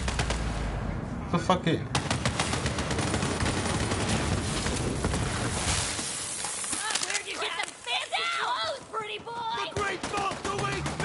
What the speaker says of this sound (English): I'll show you the power of the twin guns!